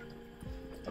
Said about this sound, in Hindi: डालते हैं पानी